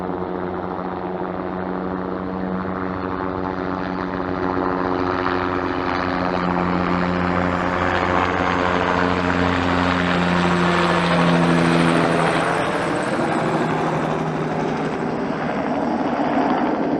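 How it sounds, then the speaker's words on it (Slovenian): A helicopter flies over mountains with a steady, loud rotor drone and engine hum that swells slightly as it draws nearer, then eases, with no talk. "Gled proti Krešlju, tam je tudi helikopter."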